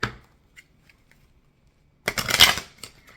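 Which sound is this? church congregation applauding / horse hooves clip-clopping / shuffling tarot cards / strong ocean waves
shuffling tarot cards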